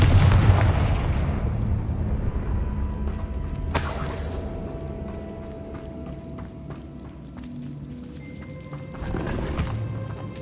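Confringo fire-spell explosion in the video game Hogwarts Legacy, a heavy booming blast that rumbles and fades over several seconds, with a sharp crack partway through and another burst near the end.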